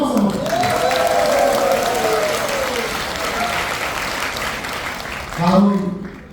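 An audience at a party meeting in Yangcheon, Seoul, claps in sustained, loud applause, with a voice speaking over it through much of the clip.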